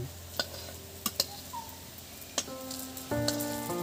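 Puffed rice chops fry in a little oil, with a soft steady sizzle and scattered sharp ticks and clicks from stirring or handling. No talking is heard.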